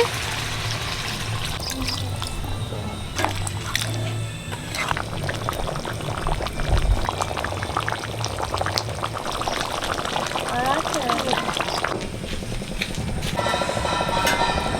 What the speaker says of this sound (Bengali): এবার জল দিয়ে দেবো জল দিয়ে দিচ্ছি